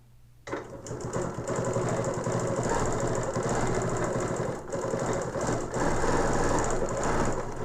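A sewing machine with a ruler foot quilting a twist design, running in a fast steady needle rattle close up, with a brief pause partway through, alone without talk.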